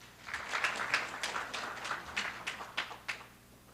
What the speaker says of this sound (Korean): 뜨거운 박수로 이경전 박수님을 모시겠습니다